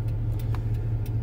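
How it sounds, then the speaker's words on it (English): A box truck's engine idles nearby with a steady low hum and a few faint ticking clicks over it; no voices. "Box truck."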